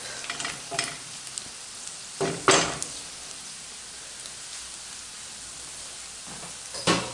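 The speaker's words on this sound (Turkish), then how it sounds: "Patlıcanı ilave ettim. İyice kavrulmasını bekleyeceğim." Steady low sizzle of eggplant frying in a pot for tomato moussaka, broken by a few louder bursts of stirring and scraping, close by.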